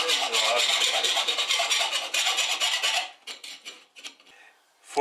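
A hand file rasps the milling burr off the inside of a metal car part in rapid, even strokes for about three seconds, followed by scattered lighter scrapes and handling noises.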